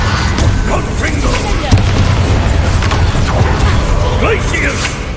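Confringo fire spell blasts in the Hogwarts Legacy video game, a dense run of booming, crackling impacts with mechanical clanks over a steady rumbling bed, loud and close throughout.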